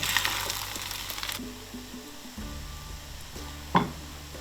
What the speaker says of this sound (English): Now we're just going to add our pork back to our fried rice.